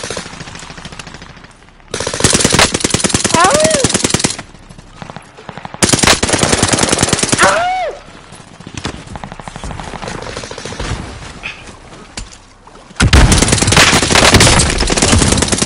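Rapid automatic gunfire in the video game Warzone on the Caldera map, loud bursts of dense shots alternating with quieter stretches, with whooshing effects between bursts.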